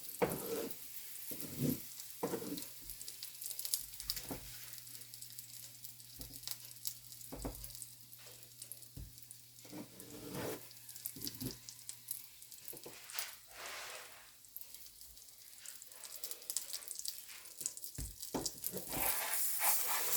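Paratha frying in oil on a flat pan, a steady broadband sizzle running throughout with intermittent crackles and scraping clicks as it is turned, close and fairly loud with no talking.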